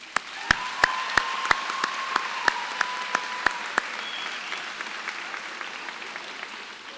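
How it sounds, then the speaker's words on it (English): Sharp, evenly spaced claps ring out at a school promotion ceremony, with a thinner spread of applause underneath and a few shouts mixed in, then the clapping thins and fades. "Why don't you give them a hand clap?"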